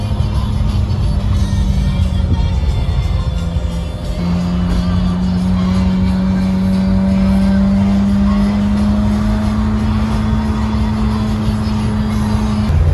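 A BMW M3 engine runs continuously from inside the car, a loud, steady low drone with a smooth rising tone as it pulls under load, no voices.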